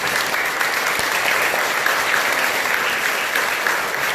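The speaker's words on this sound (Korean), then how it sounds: "우리 형제 여러분들 같이 한번 박수 합니다." A Buddhist congregation at a temple service applauds together, a steady, dense clapping that fills the whole stretch at even loudness with no pause.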